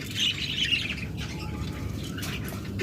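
Lovebirds at a bird sale give a few shrill, chattering squawks close by early on, followed by softer chirps over a steady background hum.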